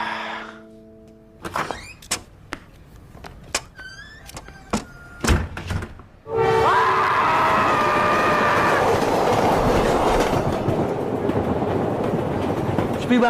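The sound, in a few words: train moving on rails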